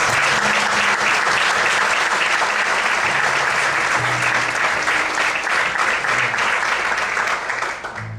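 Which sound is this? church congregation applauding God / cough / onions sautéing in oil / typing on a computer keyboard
church congregation applauding God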